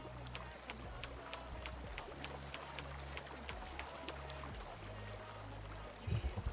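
Water streaming through a freshly dug channel in the drainage game DrainSim, on a farm being drained; a steady, continuous flowing rush with a low droning hum underneath and a brief louder splash near the end.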